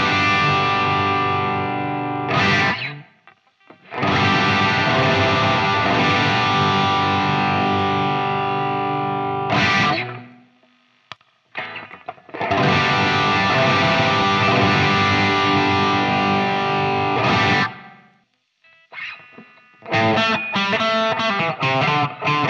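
Electric guitar played through a Warm Audio Centavo pedal set for clean boost, loud driven chords ringing in three long sustained bursts with short gaps, followed by quicker choppy strums at the end.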